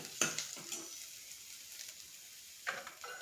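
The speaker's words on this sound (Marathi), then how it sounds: "इकडे आपला मसाला असा भाजत आहे, पाहू शकता." Ground masala dry-roasts in a pan with no oil for a spicy potato rassa bhaji, crackling in short sizzling bursts with scraping stir strokes in between. The bursts are loudest at the start and again near the end.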